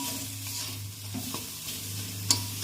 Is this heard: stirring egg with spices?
yes